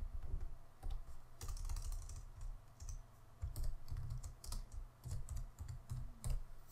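Someone types on a computer keyboard while saving a file in Sublime Text 3, with quick bursts of close, crisp key clicks separated by short pauses, and no speech.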